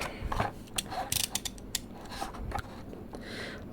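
Scissors snip through a Hot Wheels BMW 635 CSi blister card package in a quick series of sharp, close cuts with crinkling plastic and cardboard between them, no talk.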